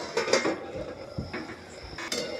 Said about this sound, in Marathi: झाकण उघडून बघायचं